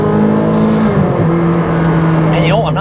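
Naturally aspirated V8 of a Ferrari 458 Speciale at a cars-and-coffee meet, a loud continuous engine drone with shifting pitch and a rising rev toward the end, with people talking nearby.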